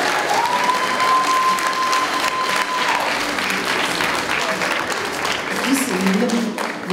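Audience applause at a Latvian concert, a lively, continuous burst of clapping from a hall full of people, steady and fairly loud, with a brief voice and some crowd murmur mixed in.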